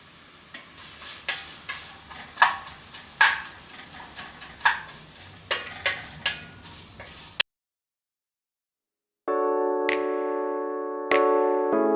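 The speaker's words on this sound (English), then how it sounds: "I'm going to toss in the garlic and the onion" Garlic and onion sautéing in a pot, with crackling sizzle and repeated scraping stirs, close and loud, followed by a pause and then a steady tonal hum.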